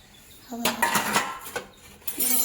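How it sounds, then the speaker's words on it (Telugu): Metal clatter and scraping of a lid lifted off a cooking pot, with a few ringing clanks spread over a couple of seconds, close by. "ఇప్పుడు ఇది మూత తీద్దాం ఒకసారి"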